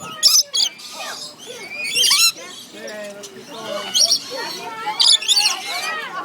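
Parrots screeching and chirping close by, with several sharp high calls rising over someone talking excitedly.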